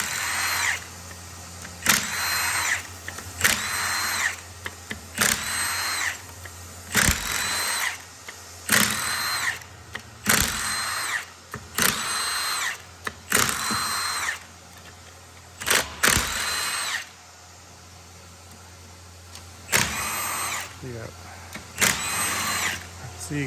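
Bursts of an impact or power tool loosening 14 mm bolts on a DCT 470 transmission of a Mitsubishi Evo MR or Ralliart, in about a dozen short loud runs separated by brief pauses, with occasional talk between them.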